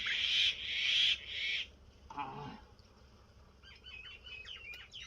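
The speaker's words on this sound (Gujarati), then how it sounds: "જો કાબર બોલે, લાટ પક્ષીઓ બોલે." Mynas and other birds call on a farm, starting with loud repeated shrill calls, then a harsher short call, followed by fainter quick chirps in the background.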